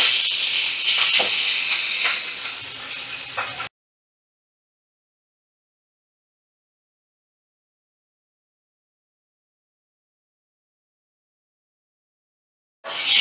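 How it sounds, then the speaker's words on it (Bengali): Magur fish frying in mustard oil in a kadai, a loud steady hiss and sizzle for a few seconds before cutting to silence, then resuming briefly at the end. "এবার মাছগুলো একে একে আমি কড়ার মধ্যে দিয়ে দেব।"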